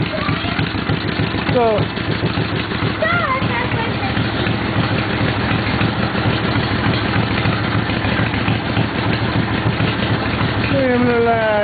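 A 2003 Chevy 2500HD truck engine idles heavily and steadily up close with a low rumbling vibration, while voices talk over it throughout.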